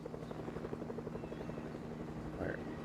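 A helicopter in Fortnite gives off a steady rotor chop with a rhythmic thumping pulse and a droning hum, heard continuously at moderate volume with a short game sound near the end.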